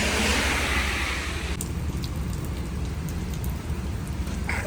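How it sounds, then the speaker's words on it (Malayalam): Heavy rain pouring down outdoors in the UAE, a dense close wash of rain noise that thins slightly partway through, with scattered drop hits and no talk. "ഭയങ്കര മഴ."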